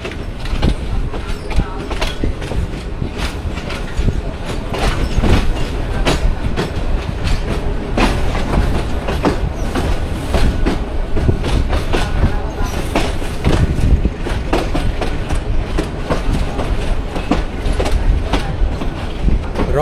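The Ramna local train on the Kurigram–Chilmari line runs along the rails with a loud, continuous rumble and rapid clickety-clack of wheels, close by and sustained throughout.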